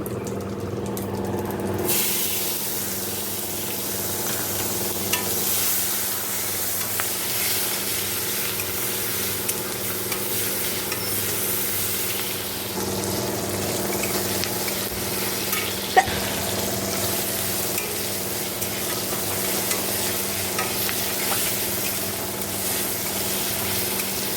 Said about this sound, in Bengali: এবার আমি এখানে জিরে শুকনো লঙ্কা ফোড়ন দিয়ে দেবো